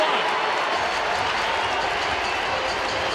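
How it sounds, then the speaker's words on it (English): Crowd noise at a Houston at Arizona major league baseball game in July 2012, after a run-scoring double: a continuous, loud, dense roar of many spectators filling the ballpark without letting up. "Listen to the crowd at Drew chant."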